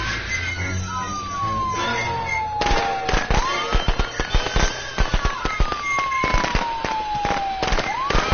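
Gunfire in the Friday the 13th video game: a rapid, uneven string of sharp shots over a steady hum, with whining, sliding game tones sweeping down behind them.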